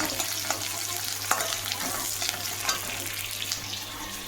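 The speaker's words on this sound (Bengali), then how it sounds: "এখানে রয়েছে টমেটো, বাঁধাকপি। তো আমি এটা রান্না করে নিচ্ছি।" Tomato and cabbage cook in a hot pan with a continuous close sizzle, occasional stirring scrapes and light crackles, and a low steady hum beneath, no talking.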